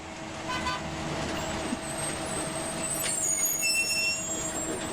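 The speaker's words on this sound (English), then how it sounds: "I hear Mr. Sargent is pulling up in his bus outside" A bus idles and pulls up outside, heard as a steady low engine rumble with faint hissing and brief higher tones, moderately distant and continuous, with no talk.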